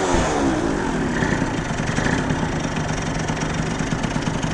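A 70cc Zuma scooter engine idles after nearly running out of gas, a loud, close, rapid putter with a steady pulsing rhythm that runs evenly with no revving.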